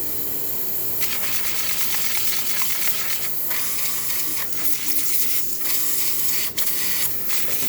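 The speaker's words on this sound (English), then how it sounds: "Now to test the steamer. As you can see, machine is steaming really good." The steam wand of a Quick Mill espresso machine hisses loudly and steadily in a continuous close rush, with brief dips and flutters in the spray and no talking.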